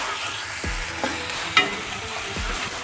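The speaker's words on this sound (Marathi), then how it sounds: "आता आपण त्यात आलं लसूण पेस्ट टाकून घेणार आहोत. छान फ्राय होऊन देणार आहोत." Ginger garlic paste frying with browned onions for pav bhaji, a soft continuous sizzle broken by a few scraping strokes of a spoon and one sharp clink.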